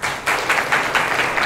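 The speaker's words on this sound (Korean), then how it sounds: "여러분 박수로 맞아주세요." A conference audience claps to welcome the next presenter, a dense, even wash of applause throughout with gentle swells.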